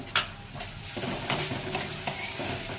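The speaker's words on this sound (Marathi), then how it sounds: "तो पण चांगला तेलामध्ये परतवून घ्यायचा" A ginger, garlic and chili masala sizzles in hot oil while being stirred, with a steady close fry and several distinct scrapes of a spoon against the pan.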